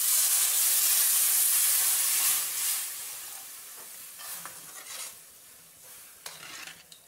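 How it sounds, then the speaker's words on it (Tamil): A loud burst of sizzling hiss as water is poured into a hot pan of kuzhambu, settling into quieter bubbling and stirring sounds. "தண்ணி ஊற்றுறேன்."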